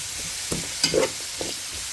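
Ingredients for spicy chicken teheri are stirred in a pan over a soft continuous sizzle, with a few distinct spatula scrapes and knocks near the middle, close and fairly loud, no voices.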